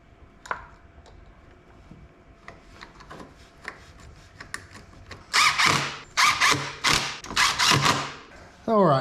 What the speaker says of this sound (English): I'll use my trusty screwdriver to get it started back again.